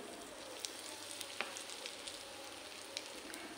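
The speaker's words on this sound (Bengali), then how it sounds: "আমি এবার তেলের ভিতর দিয়ে দিচ্ছি হিং" Asafoetida dropped into hot oil in a wok (kadai) while making potato pakoras, giving a steady soft sizzle with a few faint crackles and pops, fairly quiet and with no talking.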